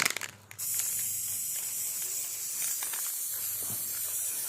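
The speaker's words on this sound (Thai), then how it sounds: "เดี๋ยวพ่นสี" A short tap and clatter, then a steady, close hiss of an aerosol spray paint can spraying continuously onto wood.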